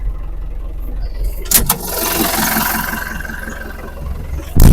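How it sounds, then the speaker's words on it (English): A New Holland TN85FA, a standard tractor, runs at a steady low idle close by, with a sharp clatter near the middle and a loud burst at the very end, and muffled voices partly under it. "It's New Holland TN85FA. So it's just like a regular standard tractor"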